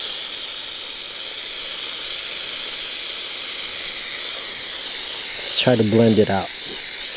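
A pressure washer sprays water in a steady, loud hiss that carries on for several seconds, close to the listener, and someone speaks briefly near the end.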